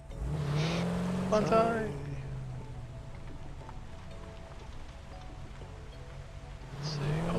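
Vehicle driving in the video game Satisfactory: a steady engine drone with a rushing, rain-like hiss runs throughout at moderate level, while a person talks briefly at the start and end.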